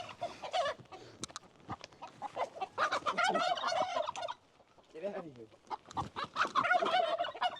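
Chickens clucking and squawking nearby in busy bursts on a permaculture farm in an abandoned Japanese village, with a person's voice briefly speaking among them.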